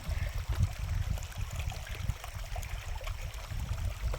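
Shallow stream water flowing steadily over stones in countryside, a continuous low trickling and gurgling rush, close and moderately loud, with no voices.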